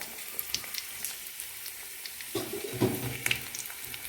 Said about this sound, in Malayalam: കടുകിടാം എണ്ണ വെച്ച് ചൂടായിട്ടുണ്ടായിരുന്നു